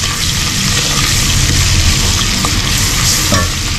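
Homemade gravy with crushed Knorr cubes is stirred in a pan, giving a continuous close bubbling and scraping with a faint sizzle underneath.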